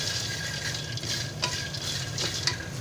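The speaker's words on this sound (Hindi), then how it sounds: "इनको मैं फ्राई कर लेती हूँ, ये फूल जाएंगे, मज़ीद ज़्यादा क्रिस्पी हो जाएंगे" Ingredients for panjiri fry in hot oil until they puff and turn crispy, giving a steady, close sizzle broken by light scraping stirs against the pan.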